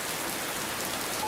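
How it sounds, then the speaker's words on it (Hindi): Heavy cartoon rain pours down steadily as a dense, even hiss of drops on surfaces, close and continuous throughout with no voices. "मोहन तेज बारिश में सामान खरीदने के लिए चला जाता है और पूरी तरह भीग जाता है।"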